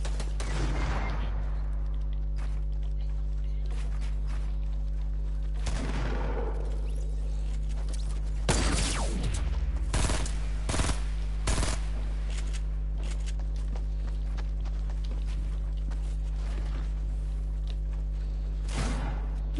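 Gunfire rings out in a shooter video game, with several sharp shots and a rapid automatic burst over a steady loud background hum, and no talk.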